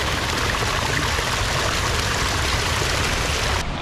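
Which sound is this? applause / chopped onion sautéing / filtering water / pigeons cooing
filtering water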